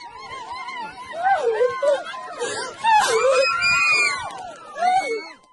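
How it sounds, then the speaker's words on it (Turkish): Relatives on a riverbank scream and wail during a drowning, repeated anguished cries rising and falling over a crowd's agitated voices, close and loud. "kıyıdaki yakınları olup bitenleri gözyaşları ve çığlıklar atarak izledi"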